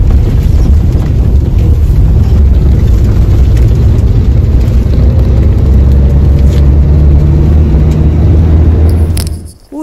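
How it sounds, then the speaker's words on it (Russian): A marshrutka minibus ride: steady, loud low engine rumble and road noise fill the cabin throughout, easing off only at the very end. "Ой, хорошо успел на эту маршрутку."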